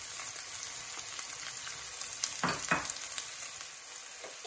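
Prawn bhuna masala with salt and green chilies fries on high heat in a pan, a steady dense sizzle with brief louder bursts of stirring midway, no voices.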